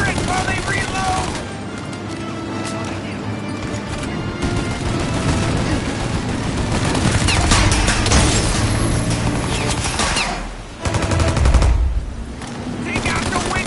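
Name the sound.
gunfire from a turret in the video game Mafia Definitive Edition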